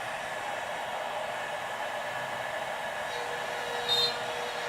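A CNC router with a 6.35 mm cutter bores holes. It gives a steady, fairly faint hiss and whine that runs unbroken throughout, with a brief slightly louder flutter near the end.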